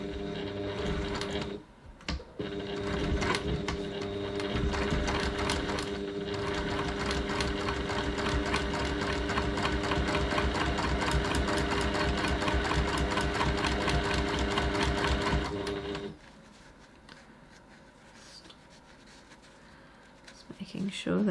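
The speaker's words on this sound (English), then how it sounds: "So I'm just going to stitch right close to that seam there." A sewing machine topstitches close to a seam with a long stitch length, a fast, even mechanical rattle running steadily for about fourteen seconds before stopping, with someone talking quietly around it.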